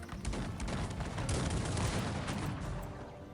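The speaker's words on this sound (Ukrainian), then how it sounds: "Давайте тут постріляйте." Dense volleys of gunfire from the strategy game Cossacks 3 during a desert battle, with overlapping shots and booms that roll on continuously and loudly with no pause.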